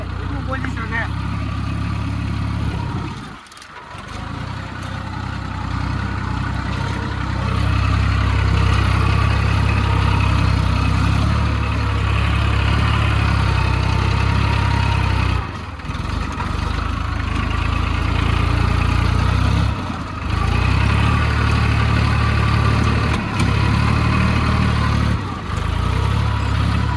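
A tractor engine runs with a loud, steady low rumble close by for the whole stretch, with a few brief dips, while someone talks over it.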